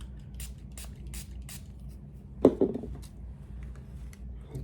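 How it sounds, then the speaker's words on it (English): A couple of quick, close spritzes from a spray bottle midway through, set against a faint, steady background hiss. "I'll spray it down with water"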